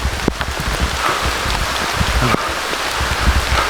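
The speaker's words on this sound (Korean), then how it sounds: "이렇게 운행 중간에 비가 쏟아질지는 생각 못했습니다." Heavy rain pours steadily and densely during a backpacking trip on Eobisan mountain, a continuous close hiss of drops drumming on surfaces with no break and no voices.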